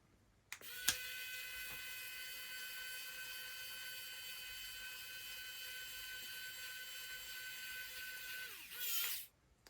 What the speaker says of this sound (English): so I'll just hold the fan case and screw this screw in.